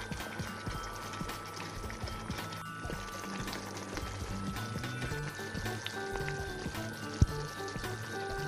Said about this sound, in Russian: Мы наливаем растительное масло.